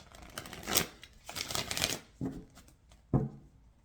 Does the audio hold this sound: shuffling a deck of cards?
yes